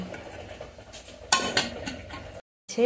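A lid set onto a pot of hot rice water: a sharp metallic clank and rattle amid light utensil clatter, then a brief silence before more handling.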